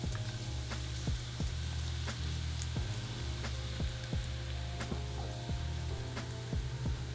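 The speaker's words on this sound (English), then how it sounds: "You can see there's a beautiful sizzling effect here, not too vigorous, not too mild." Hot oil poured over chili flakes sizzles steadily at moderate intensity, with scattered sharp crackles and pops over a constant frying hiss.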